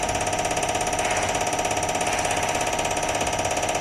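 Motor on a test bench settling down to 300 RPM for a Carbon Zapp ETBR-X extension module, a steady loud mechanical drone with a rapid, even pulsing rhythm throughout and no talk.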